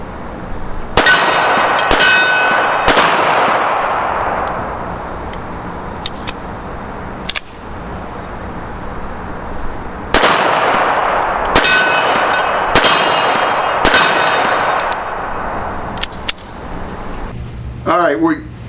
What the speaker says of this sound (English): we just shot the Colt Hammerless